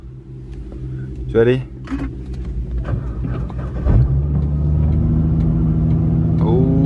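A Nissan GT-R engine hums and swells in a rising, sustained drone, with car motor noise running beneath people talking nearby.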